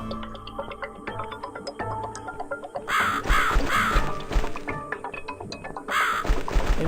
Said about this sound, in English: Am I supposed to follow the bird?